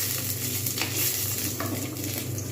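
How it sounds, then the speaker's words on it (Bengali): Black cumin seeds and chopped green chillies frying in hot oil, giving a steady, dense sizzle with a few light stirring scrapes, close and continuous; no voices. "আমি এখানে কালো জিরে আর কাঁচা লঙ্কা দেব"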